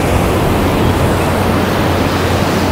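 Ocean surf rolling onto a Florida beach near a fishing pier at Pompano Beach, a steady broadband wash of waves with wind noise, continuous and fairly loud with no voices.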